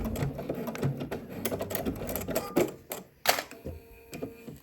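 A sewing machine back stitches a swimsuit seam, its needle running in short bursts with brief pauses and a few sharper clicks, close and fairly quiet.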